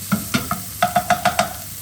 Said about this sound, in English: I'm going to add my onions. And just sweat those down a little bit,